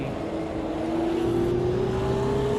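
A race car engine in a racing video game drones steadily and loudly, its pitch slowly climbing as it accelerates, with a Porsche close ahead and no talking.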